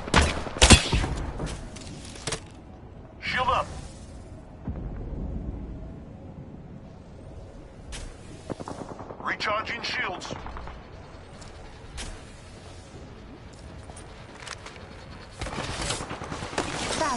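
Rapid bursts of gunfire and explosions in an Apex Legends Duos match crackle in clustered volleys, some loud and close and others lighter, while a player talks over the action.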